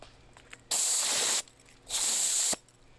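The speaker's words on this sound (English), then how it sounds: "just a little air-powered tool." Two strong bursts of hissing air from a small air-powered tool, each roughly a second long with a short pause between, loud and close against a quiet background while working on a 1979 Pontiac Bonneville Safari wagon.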